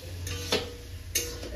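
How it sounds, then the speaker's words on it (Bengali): Small morola fish fry in a pan with a faint, steady sizzle, broken by two soft clacks of utensils against the pan, and no one talking. "মোরলা মাছ ভাজছি"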